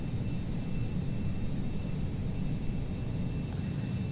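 Cabin drone of a Carenado Citation CJ2 (525A) jet in the Prepar3D flight simulator, a constant low engine rumble with a thin high whine, steady and unbroken.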